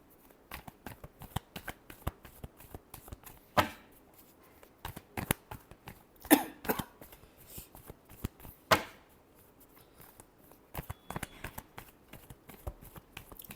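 Tarot cards are riffled and shuffled in quick, papery bursts with a few louder snaps, close and fairly quiet, with no talking.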